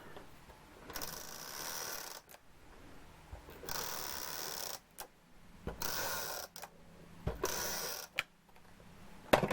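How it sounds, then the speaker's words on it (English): A tape runner applying adhesive to paper gives several short bursts of dry, raspy ratcheting, each lasting a second or so, separated by quiet gaps and small handling clicks, close-up. "I think I'll use my tape runner."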